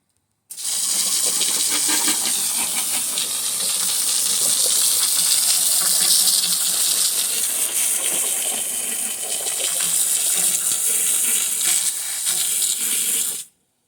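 Water sprays hard onto engine cylinder heads during washing, a loud, close, steady hissing gush that starts suddenly and runs unbroken for about thirteen seconds before stopping.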